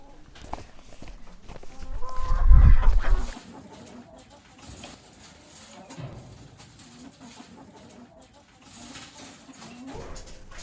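Chickens cluck softly in a farm hen house beside the nest boxes, faint and scattered, with a brief loud rustling thump early on.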